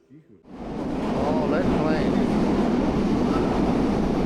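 A red Meitetsu train at Nagoya station rumbles steadily, close and loud, rising from quiet within the first half second into a sustained roar with faint squeals.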